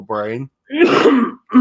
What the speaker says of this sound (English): I didn't know if you coughed or sneezed.